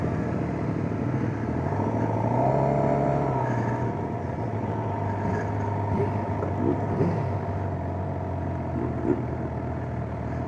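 A 2025 Suzuki GSX-750 motorcycle with a 750 engine hums steadily while riding, its drone rising slightly mid-ride, heard close against constant wind rush.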